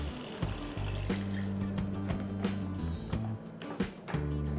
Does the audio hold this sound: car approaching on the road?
no